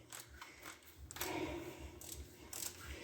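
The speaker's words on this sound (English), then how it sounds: "Unwind our torque wrench" A torque wrench on a 2003 Dodge RAM 3500 dually is unwound by hand, giving faint close mechanical clicking and ratcheting in a short, uneven sequence.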